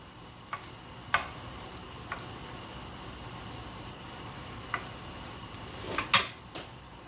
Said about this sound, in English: then we make a patty like this and then just drop it into the oil very, very gently